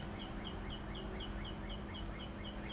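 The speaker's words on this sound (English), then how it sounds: "Man, that bird is going in ham." A bird calls loudly and insistently near a workshop where an amp rack and door panels are being restored, repeating a sharp, even chirp about every quarter second over steady background hum.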